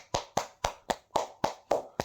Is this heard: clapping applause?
yes